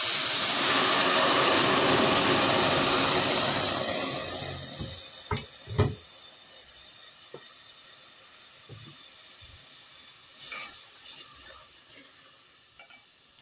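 Roasted green salsa hits hot oil in a pot with a loud, steady sizzle and hiss that fades after a few seconds, followed by quieter stirring clicks and scrapes.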